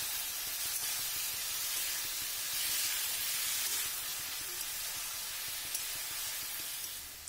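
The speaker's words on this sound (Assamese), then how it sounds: "বিলাহীখিনি অকণমান ভালকৈ ভাজা হ'লে সিজাই লোৱা ফুলকবি আলুখিনি দি দিম। এতিয়া এইখিনি ভালকৈ অকণমান ভাজি লওঁ।" Tomatoes fry in a pan with boiled cauliflower and potato, giving a steady, close hiss and sizzle that holds throughout with no voices.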